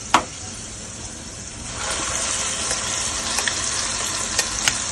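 Ground spice paste (vatap) fries in a pan with alu (colocasia leaf) bhaji. A clink sounds first, then a steady close sizzle grows louder, broken by a few sharp stirring clicks.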